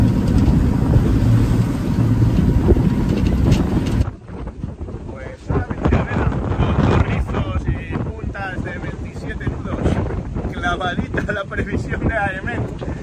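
Strong wind buffets the microphone aboard a sailboat sailing upwind on the Mediterranean at almost 6 knots under sail alone, a loud steady roar that drops to gusty rushing with water sounds after a few seconds.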